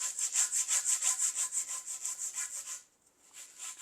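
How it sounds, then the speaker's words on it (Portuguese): Sandpaper rubbed back and forth across a wooden marquetry rosette, a rhythmic close scratching stroke repeated about five times per second, pausing briefly before resuming. "Passando a lixa isso daqui"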